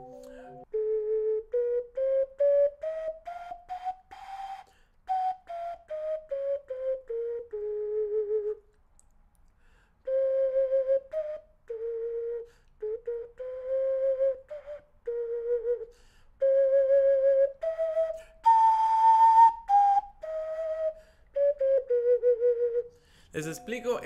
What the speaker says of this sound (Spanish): Cuando uno tiene una ocarina que no es de buena calidad, está afinada incorrectamente